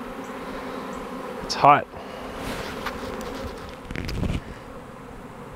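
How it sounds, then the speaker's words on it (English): Honey bee swarm buzzing as it moves into a box below a tree, a steady insect hum under a brief spoken line and a few louder bursts of handling noise. "the swarm finally came out of the top of this tree. And lucky for me, they're going into the box"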